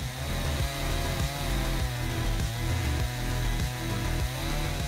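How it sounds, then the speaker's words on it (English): A Stihl MS-661 chainsaw on a Granberg Alaska mill rips through logs, its loud, steady engine drone running continuously with slight rhythmic load changes and no talk. "the style MS-661 and Granberg Alaska chainsaws allow users to turn logs into valuable resources with ease."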